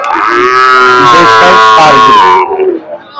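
A Deshal breed bull calls at a livestock market with a long, loud, tonal moo lasting over two seconds, with crowd noise behind it.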